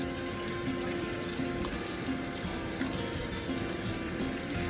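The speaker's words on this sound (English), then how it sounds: "She's got a few more dishes to wash." Dishes being washed in a kitchen sink under a running tap, a steady close rush of water with faint clinks, continuous and without talk.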